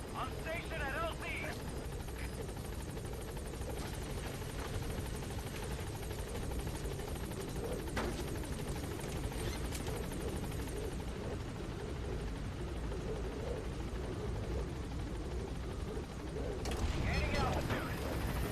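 The Pequod helicopter in Metal Gear Solid V hovers at a landing zone, its loud steady rotor drone and engine rumble filling the scene continuously, with occasional sharp mechanical clanks.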